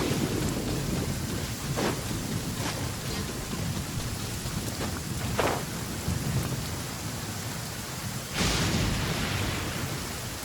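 Steady heavy rain with rolling thunder in the Genshin Impact video game, a loud continuous downpour broken by several thunder cracks, the last and strongest near the end.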